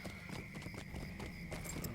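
Horse hooves clip-clop in a quick, even rhythm while riding in the video game LOTRO, fairly faint and continuous with no talk.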